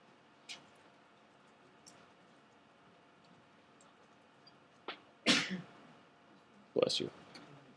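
A sneeze bursts out near the end, with a smaller sharp sneeze-like burst a couple of seconds before it and faint clicks earlier over a quiet room hum, during a programming lesson.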